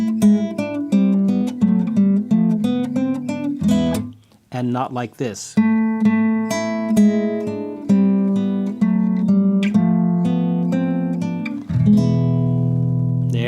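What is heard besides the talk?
acoustic guitar playing melody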